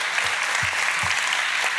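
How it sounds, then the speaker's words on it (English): Audience applause for authors Bradley Hart and Garrett Graff at a book event, steady clapping from a crowd filling the whole short moment at an even level. "let's get a round of applause for Bradley Hart and Garrett Graff"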